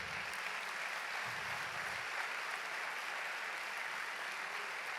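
Church congregation applauding in praise, a steady dense wash of many hands clapping together that holds evenly throughout, with no talk over it.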